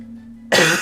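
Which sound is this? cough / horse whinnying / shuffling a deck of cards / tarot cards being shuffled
cough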